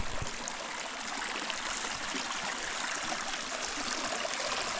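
A natural river flows steadily with a dense, constant rushing and gurgling wash, close by and loud throughout, with no voices.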